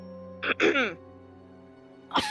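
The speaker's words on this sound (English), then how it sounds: "coughs to clear her throat real quick." A woman clears her throat twice in quick rasping bursts close by, over a steady low electrical hum, then a brief voice sound follows.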